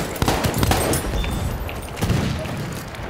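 A shotgun in Battlefield 1 lets off a few sharp, booming blasts close by, mixed with more gunfire and battle noise.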